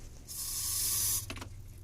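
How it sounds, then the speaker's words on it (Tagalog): A spray can lets out one long, bright hiss of a little under a second, followed by a short rattling clatter as it stops. The can sounds close, and no one speaks. "Sige, spray mo sa taas."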